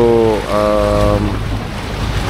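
Wake waves from a passing boat wash against the shore on the coast of southern Italy, a steady loud rush mixed with wind noise and a brief tonal hum, with no talking.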